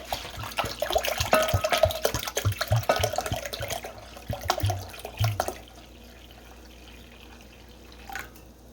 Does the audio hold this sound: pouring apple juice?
yes